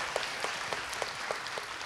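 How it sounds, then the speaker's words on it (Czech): Audience applause at a congress in Plzeň, a steady wash of clapping from a crowd with a few sharper claps standing out, moderately loud and continuous with no talking. "ano, potlesk"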